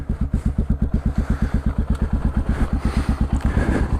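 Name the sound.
CCM DS 644 single-cylinder motorcycle exhaust, big bore kit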